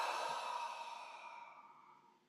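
A long, audible Qigong exhale meant to release stagnant heart energy, a soft breathy sigh that starts fairly strong and fades slowly over about two seconds.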